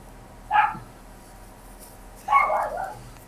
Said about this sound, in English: God damn it, dog! Shut up.